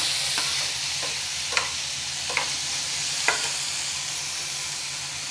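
Tomatoes cooking in a pan for tomato rice, with a steady soft sizzle under a few brief stirring scrapes of a spoon against the pan.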